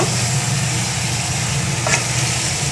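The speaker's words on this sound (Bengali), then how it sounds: "এবার নাড়াচাড়া করে নেবো। মশলাটা ভালো করে কষাতে হবে।" Masala for mutton kasha sizzles and is stirred in a pan, a steady, loud frying hiss running throughout with a brief scrape near the end, no voices.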